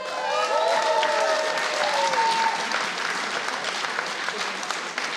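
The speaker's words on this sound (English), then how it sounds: "Another round of applause for our State Controller" Sustained audience applause at an ethnic media awards ceremony for the California State Controller, steady and fairly loud throughout, with a few brief whoops early on.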